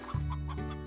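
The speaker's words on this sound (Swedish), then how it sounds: "För jag tror vi har vanliga höns. Här nere också." Chickens in the video game Slime Rancher give a short, close burst of throaty clucking, loud and alone.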